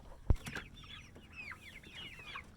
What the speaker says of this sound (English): now we're in with the chickens